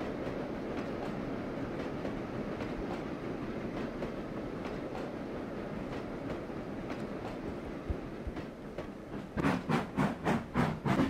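A train runs in the Trainz Driver 2 video game, with a steady low rumble and regular clickety-clack beats over wheels on rails. The beats grow stronger and more distinct near the end, with no talk.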